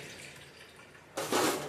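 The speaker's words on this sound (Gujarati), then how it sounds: "એનું પાણી બનાવ્યું છે હવે ગાળી લેશું" Water strained from soaked bhel ingredients of vegetables and pulses: a quiet stretch, then a sudden close splashing pour that stays loud to the end.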